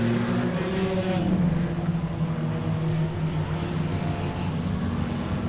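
Enduro race cars circle Langley Speedway mid-race, a loud steady drone of several engines with gear shifts and pitch sweeps as cars pass close by.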